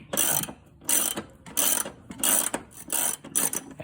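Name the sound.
ratchet removing top bolts of Honda rear shock absorber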